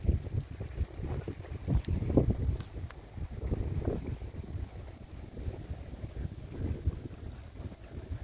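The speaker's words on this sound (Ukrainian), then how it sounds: "А он там хтось вигулює свою яхточку." A yacht motors along a fast, deep river, its low engine rumble steady under gusty wind buffeting the microphone, with no talk.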